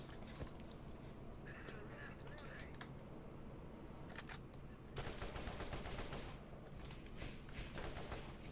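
Rapid gunfire from a powerful gun in the video game Borderlands, a dense stream of shots that grows louder and more intense midway, mixed with game noise and some talking.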